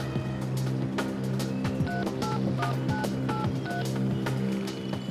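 Telephone keypad dialing for a local call: a run of distinct DTMF tone beeps at a steady rhythm, heard close over a constant low background hum.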